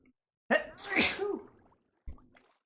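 A single person's sneeze, close and fairly loud, with a sharp intake leading into the burst and a short trailing sound after it, set against a quiet indoor background.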